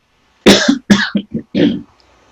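A person coughs four or five times in a loud, close burst, with a throaty rasp, then falls silent.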